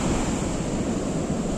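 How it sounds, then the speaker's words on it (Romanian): Sea waves on the beach at Eforie Nord by the pier in October, a steady close rush of surf with wind noise, loud and continuous throughout. "Valurile nu sunt potrivite pentru el."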